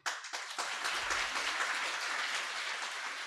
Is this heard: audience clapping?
yes